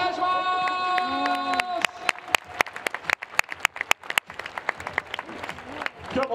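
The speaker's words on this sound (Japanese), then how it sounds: "ジェラ手拍子応援で盛り上げていきましょう。" Baseball fans in a stadium during a Climax Series final playoff game against the Yomiuri Giants clap in a sharp rhythmic cheer pattern after a short tonal chime, with crowd noise between the claps.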